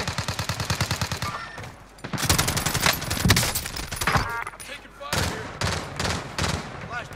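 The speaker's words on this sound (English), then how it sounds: "Taking fire here." Bursts of automatic gunfire and single shots from Call of Duty Warzone battle royale combat, loud and close, firing in repeated volleys with brief pauses between, over game sound and background noise.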